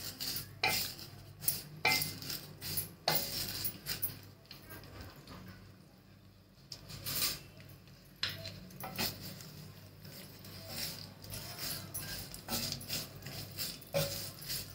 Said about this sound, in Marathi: मनुके टाकते याच्यामध्ये, बदाम टाकते, म्हणजे ते पण चांगले भाजून निघतील त्याच्यामध्ये तुपामध्ये चांगले।